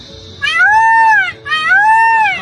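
Two loud, drawn-out wailing calls in a row, a person mimicking a peacock's cry, each rising then falling, close and clear.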